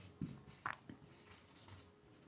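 A teacher writing on a classroom board during a physics lesson, a few short scratchy strokes and taps in quick succession, fairly faint against a quiet room.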